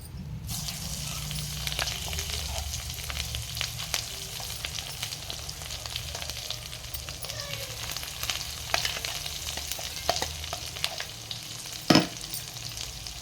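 A tempering of dried red chillies, cumin and turmeric fries in a pan with fenugreek leaf chutney, keeping up a steady crackling sizzle with scattered stirring clicks and one louder clatter near the end, no speech.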